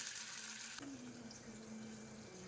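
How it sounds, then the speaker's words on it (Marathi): Water pours in a steady splashing stream into a pan holding curry leaves and green chillies, then shifts to a softer, rising filling tone as the pan takes on liquid; no voices. "थोडंसं पाणी याच्यामध्ये टाकायचं आहे"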